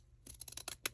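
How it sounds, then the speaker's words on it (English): Postage scissors snip around a paper gift tag in a quick series of about seven close, crisp cuts, alone and without talk. "I'm going to use my postage scissors to go around it"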